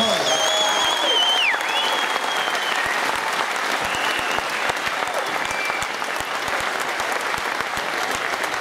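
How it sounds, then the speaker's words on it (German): A boxing arena audience bursts into loud, sustained applause after a knockout bout, dense clapping filling the hall steadily from start to finish. "bitte einen ganz großen Applaus für diesen tollen Fall"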